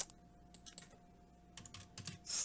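Quick bursts of typing on a computer keyboard, a few clustered keystrokes and clicks, close and quiet with no talk.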